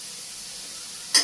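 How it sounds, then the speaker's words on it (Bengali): Fish frying in a pan in a Bangladeshi home kitchen, a steady soft sizzle with a brief sharper crackle at the very end. "এই দেখো মাছ ভাজি"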